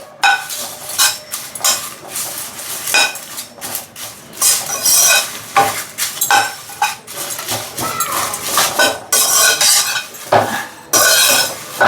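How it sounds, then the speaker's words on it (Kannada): Bay leaves crisping in a pan while whole spices are roasted for homemade garam masala, with loud metallic clatter and scraping of a stirring utensil against the pan over a faint sizzle. "ಪಲಾವ್ ಎಲೆ ಹಾಕೊತಾ ಇದ್ದೀನಿ ಪಲಾವ್ ಎಲೆನೂ ಅಷ್ಟೇ ಅದು ಸ್ವಲ್ಪ ಒಂದು ನಿಮಿಷ ಅದು ಗರಿ ಗರಿ ಆಗಬೇಕಷ್ಟೇ"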